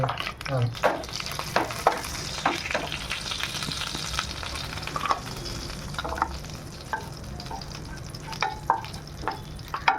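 Continuous sizzling crackle of cumin seeds frying in hot oil, with occasional scraping stirs against the pan, close and steady throughout.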